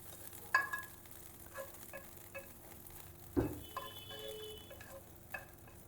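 Butter melts in a frying pan for an omelette, with a faint steady sizzle under scattered light clicks and a single knock of utensil against the pan.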